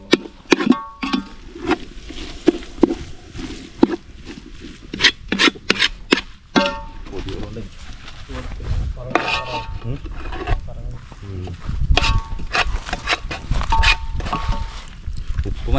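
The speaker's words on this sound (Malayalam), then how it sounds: "ഇത് നല്ലപോലെ ഇളക്കി പോട്ടാം. നല്ല മസാല പിടിച്ച് വരുന്നതായിട്ട് ഇളക്കി കൊടുക്കാം." Biryani masala stirred in a metal pot, with repeated scraping and rubbing strokes and clinks of the spoon against the pot, loud and close, while a person talks intermittently.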